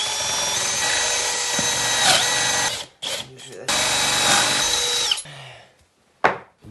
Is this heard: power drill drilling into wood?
yes